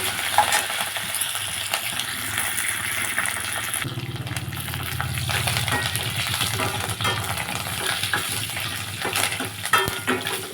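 Tempering spices fry in a pan and are stirred for a lentil dish, giving a continuous loud sizzle and hiss broken by scraping and clinking of the spoon, with no voices.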